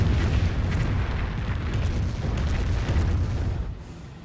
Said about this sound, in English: Landmine detonated there.